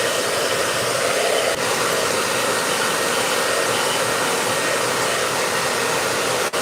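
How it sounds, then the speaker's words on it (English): A hair dryer blows steadily at close range over the surface of a painting, a continuous loud whooshing roar that holds without pause throughout. "So I'm going to bring out my hair dryer and I'm going to give this surface a little bit of a dry."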